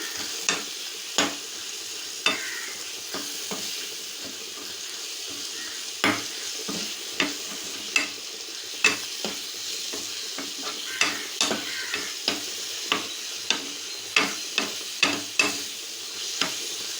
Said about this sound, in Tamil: எல்லாம் வதங்கிடுச்சு